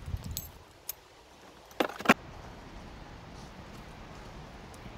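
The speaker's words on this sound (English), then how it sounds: "Some keys." A small bunch of keys jangles in two brief bursts near the microphone, picked up among scrap items on a metal-detecting dig, over a quiet outdoor background.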